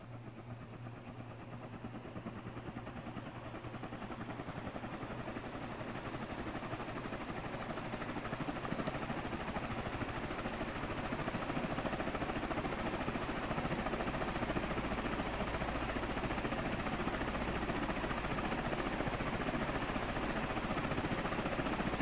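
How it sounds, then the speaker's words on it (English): A Moss Caribbean Breeze industrial ceiling fan with a torquey motor runs steadily, its broad motor hum and airy rumble holding loud and continuous throughout while the whole assembly shakes. "this is a genuinely terrifying piece of fan equipment"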